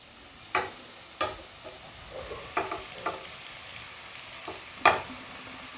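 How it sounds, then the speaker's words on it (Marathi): Sago pearls being stirred into cooked potatoes in a pan for sabudana khichdi, a few scattered soft scrapes and taps over a faint sizzle, quiet with no talking. "आता आपण यामध्ये साबुदाणा टाकून घेऊयात"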